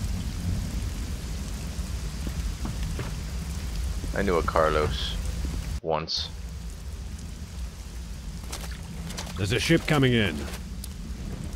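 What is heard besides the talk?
rain and thunder storm in the video game Risen 2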